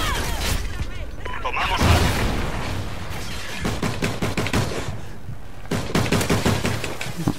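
Rifle fire in the video game Call of Duty: Ghosts, with loud bursts and rapid repeated shots crackling through the mix, along with other game effects.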